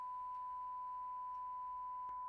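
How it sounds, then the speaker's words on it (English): A steady pure sine-wave test tone plays alone in a sidechain ducking demonstration, holding a constant pitch at a low level with only a faint click near the end. "only you are hearing sine wave"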